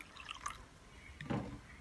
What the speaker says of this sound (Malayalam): ചെറിയൊരു ചൂടുള്ള കുറച്ച് വെള്ളം നമുക്ക് ഇതിലോട്ട് ഒഴിച്ചെടുക്കാം